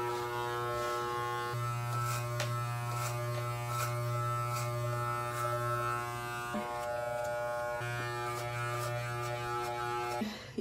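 Electric hair clippers fitted with a number 5 guard buzz steadily and up close while blending hair into a taper on short natural hair, with a constant motor hum that shifts pitch slightly as the blades move through the hair.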